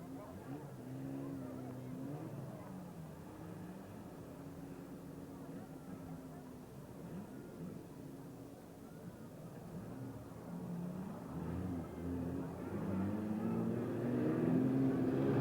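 A 3-litre Westminster saloon drones along in a pre-1968 race, its engine a continuous mid-distance hum that swells louder toward the end, with a commentator talking over it.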